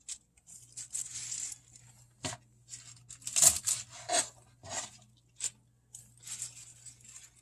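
Stems are snipped and pulled off foraged wild edible plants with quiet crisp cuts and rustling handling, a series of irregular close snips and rubs over a faint low hum.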